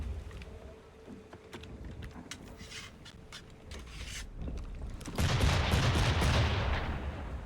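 Gunfire in the Assassin's Creed 3 Remastered video game, with scattered sharp shots and bursts over a dense battle din that swells into a loud, sustained roar of fire toward the end.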